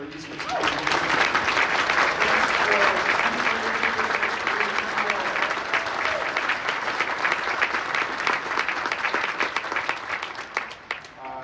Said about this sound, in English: a big round of applause for the Eastman School of Music.